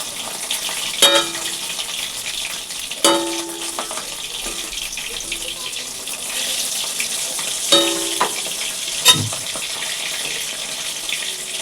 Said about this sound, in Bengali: মাছ এত ফুটছে, হলুদ দিয়ে নিয়েছি তবুও ফুটছে, পটপট করে ফুটছে